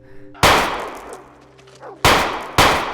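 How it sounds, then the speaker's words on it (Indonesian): Three sharp gunshots ring out in a tense film scene, one alone, then a short pause before two more in quick succession, each loud and ringing off with a metallic decay over a faint low hum. "Kejadian itu berakhir setelah terdengar 3 letusan tembakan."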